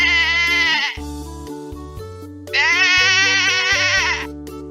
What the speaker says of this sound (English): Sheep gives us wool.